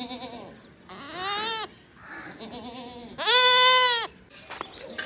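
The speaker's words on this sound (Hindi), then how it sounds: "जो ये बकरी है ना, मैंने आपको पहले दिखाई है" A goat bleats repeatedly in a farmyard, several loud, wavering cries of varying length close by, separated by brief pauses with faint background noise.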